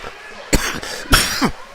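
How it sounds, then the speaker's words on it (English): A hockey commentator coughs twice during a girls' 14U youth game broadcast, two sharp bursts about half a second apart, close to the mic, with a brief throaty tail after the second. "Sorry for the cough"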